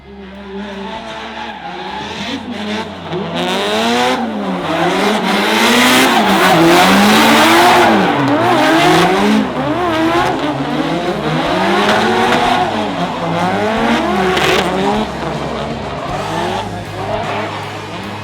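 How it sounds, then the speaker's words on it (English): Drift cars slide around a track, their engines revving hard and tires squealing in long wavering howls that rise and fall continuously and loudly for the whole stretch. "we'll be able to get some more rolling shots of cars driving around and looking cool and looking sick"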